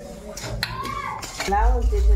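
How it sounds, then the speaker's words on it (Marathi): Barnyard millet (bhagar) is dry-roasted in a pan for a fasting dish, with a metal spoon scraping and clinking against the pan in close, uneven strokes and a louder rattle toward the end. "यांनी भगर भाजायला घेतली आहे आणि छानपैकी भगर बनवणार आहे"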